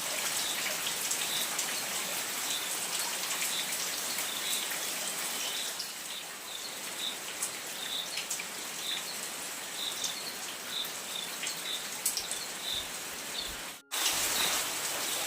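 Steady rain patters down continuously, with dense drops hitting a surface and faint bird calls in the background; a brief dropout near the end.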